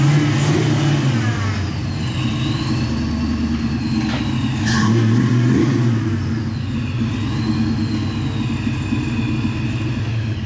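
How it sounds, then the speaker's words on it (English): A Ford Foxbody Mustang engine runs steadily and close, with a rough mid-pitched drone, a light whine and one brief rise in revs partway through. No one talks. "Make sure you rev it up a little bit so you can get the power steering to..."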